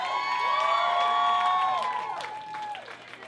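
An audience cheers and applauds for a bride-to-be at a live show, with loud whoops and shouts over clapping that swell and then fade after a few seconds.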